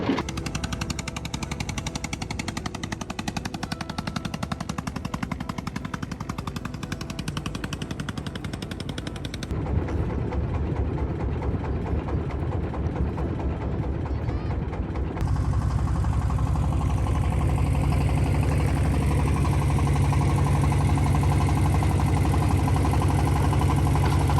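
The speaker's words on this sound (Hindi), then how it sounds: "दादा वापस से इंजन स्टार्ट कर रहे हैं" A boat engine on the Padma river being restarted, a loud rapid mechanical chugging that cuts out and resumes, then settles into a steady close running drone.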